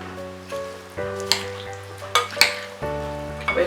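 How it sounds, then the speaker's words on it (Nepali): A spoon stirring cucumber, green pea and potato pickle with chili powder, giving scraping and clinking strokes against the pot over a steady low hum, several distinct scrapes in a few seconds. "अब एकपल्ट यसलाई चलाउँदैछु म।"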